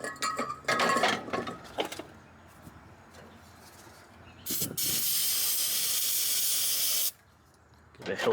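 Fluid is sprayed into the engine of a 1979 Dodge Ramcharger in one loud, sustained hiss lasting a few seconds, with brief talk and clanking just before it and a short sound afterward.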